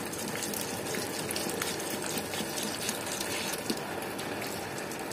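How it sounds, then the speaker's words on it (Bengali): Steady gushing water draining through a cinder-filled pot of a rose plant as it is watered, a continuous even flowing hiss with no pauses. "এবার দেখো পরিষ্কার জল বেরোচ্ছে।"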